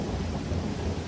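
A thunder and rain sound effect: a low, continuous rumble of thunder over steady rainfall, loud and unbroken, with no voices.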